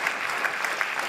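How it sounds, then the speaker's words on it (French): An audience claps for award winners, a brief burst of dense, steady applause with individual claps standing out. "On peut les applaudir aussi."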